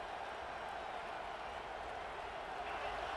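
Steady roar of a large stadium crowd in the video game EA Sports College Football 26, a dense continuous wash of cheering and chatter at constant loudness with no distinct voices standing out.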